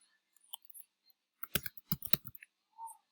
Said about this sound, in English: click on next